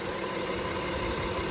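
A 2017 Honda Ridgeline engine idles steadily up close, a constant even rumble with no change in rhythm across the short stretch.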